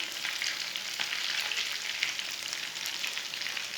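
Aloo tikki cook in a pan with a steady, moderate sizzle and light crackle that holds evenly throughout, close by and with no voices.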